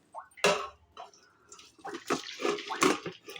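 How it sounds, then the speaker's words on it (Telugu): Hot water is poured off boiled tomatoes and green chillies in a kitchen, heard as several close, uneven splashing pours with short pauses between bursts. "గ్యాస్ బంద్ చేసి ఇప్పుడు నీళ్ళు వంపుకోవాలి"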